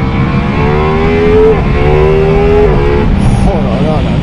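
A Ducati Multistrada V4S in sport mode revs and accelerates through several rising engine sweeps, loud and close from the rider's position, with someone talking over it.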